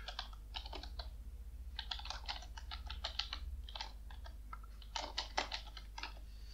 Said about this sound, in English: Then you have to type Python and import TensorFlow as tf.